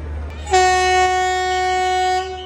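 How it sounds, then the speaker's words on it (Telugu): At a railway station, a departing passenger train sounds one loud, sustained horn blast lasting under two seconds over a low, continuous rumble. "అరే వెళ్ళిపోతుంది, బయలుదేరిపోయింది ట్రైన్"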